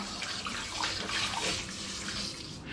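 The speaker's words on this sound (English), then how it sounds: "it's simply a case now of rinsing my bottles off prior to labelling them" Tap water runs steadily into a sink while cider bottles are rinsed ahead of labelling, a continuous close splashing flow with no talk.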